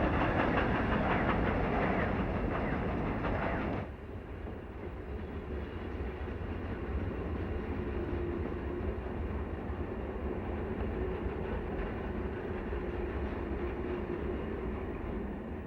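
Big AC cab-forward steam locomotive rolling under a highway bridge into Colfax in the Sierra, a loud rumbling roll that drops abruptly in level after a few seconds, then continues as a steady, softer rumble with faint rail clatter.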